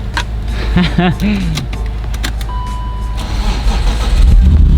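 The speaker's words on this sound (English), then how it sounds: "We gotta jump it because there's no battery in it" A BMW E36 M3 with no battery is jump-started. A loud, close engine cranks and catches amid mechanical clatter and a brief whine, then idles in a steady rumble while a voice talks over it.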